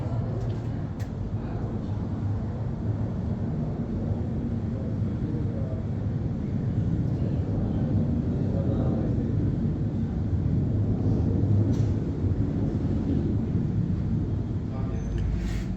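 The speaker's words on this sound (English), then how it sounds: "Actually, I can hear the IDF airplane" An Israel Defense Forces aircraft passes over Tel Aviv's Florentin neighborhood during an alert, a steady deep rumble that fills the whole stretch while people talk.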